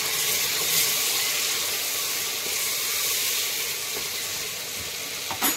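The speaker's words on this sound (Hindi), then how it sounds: "अब डाल देंगे इसमें टमाटर हरी मिर्च से भून लेंगे" Tomatoes and green chillies sizzle steadily in a pan with browned onions, a continuous close, bright frying hiss with faint stirring clicks and no talk.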